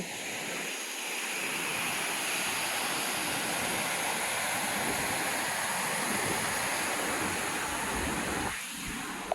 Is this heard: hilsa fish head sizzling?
no